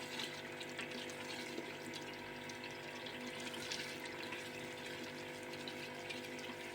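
Water splashing and gurgling steadily into a pressure cooker holding boneless beef masala, with a constant mechanical hum underneath and no voices.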